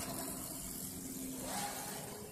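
Lamborghini Gallardo, a newer-model example among other supercars, idles with a steady low engine rumble and mild whir, fairly close and continuous, against outdoor background noise.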